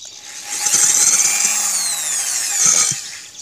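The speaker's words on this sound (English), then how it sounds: "And then he just drills. It's going to be quite noisy" A power drill bores a hole through a clay pot, giving a loud, close, steady high whine that swells and eases over about three seconds with no one talking.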